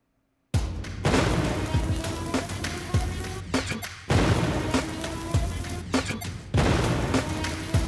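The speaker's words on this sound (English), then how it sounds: "Now you can hear when I shoot the gun, it just happens immediately, and then the sync happens just a delayed second" Gun firing sound effect in Unreal Engine 5, timed to a musical beat: heavy booming shots land in repeated bursts roughly every two seconds, each followed by a rumbling tail and clicks, loud and close.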